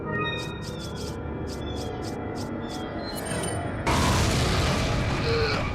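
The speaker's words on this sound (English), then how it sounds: "Why not use a grenade?" A grenade detonates in Resident Evil 4 inside a mine, a sudden loud boom that cuts into a rhythmic series of metallic beeps and leaves a sustained roaring rumble.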